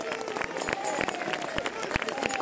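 Scattered clapping rises from a crowd at the Ula Tirso carnival parade during a Sardinian dance, mixed with a faint musical tone and a voice talking over it.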